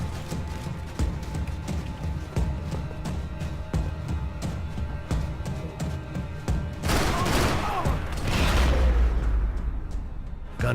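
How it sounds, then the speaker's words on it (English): Heavy gunfire from the Max Payne 3 video game, with dense bursts of shots and booming impacts running throughout, swelling into a louder, more chaotic barrage toward the end. "Gunfire over Hoboken."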